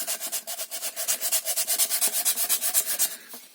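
Sandpaper rubbing back and forth inside the mouth of a juniper wood knife sheath, a fast, steady run of close scratchy strokes, each one a short, even rasp, with no talking.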